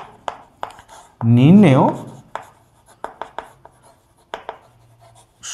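A pen or marker scratches out an answer by hand for a Class 5 math problem, with short irregular strokes and taps, and a voice speaking briefly near the start.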